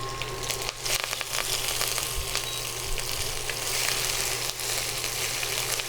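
Garlic, green chili and curry leaves sizzle steadily in a hot pan, a constant loud frying crackle with occasional stirring scrapes, no talking.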